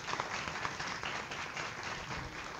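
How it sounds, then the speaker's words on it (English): A university lecture audience gives a round of applause in a classroom, a steady wash of hand claps at moderate distance with no clear voices over it. "Round of applause."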